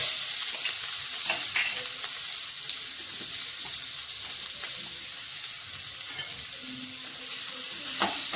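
Chopped green chillies and onions fry in hot oil, a steady bright sizzle with occasional spoon scrapes and small pops, close and continuous with no talking.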